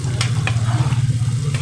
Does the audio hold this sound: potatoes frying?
yes